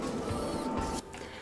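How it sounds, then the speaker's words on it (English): Mechanical elevator descending in the video game Sudeki, a steady loud machine hum and rattle that drops off abruptly near the end, with no talking. "Elevator going down"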